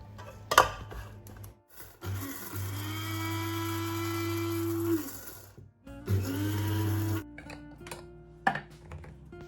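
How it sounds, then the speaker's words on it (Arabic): Whole cloves ground to a fine powder in an electric grinder, two loud whirring bursts of several seconds each, separated by a pause and framed by clattering handling and clicks. "غادي نحاول نطحنوه مزيان حتى نحصل على واحد المسحوق اللي غادي يكون ناعم"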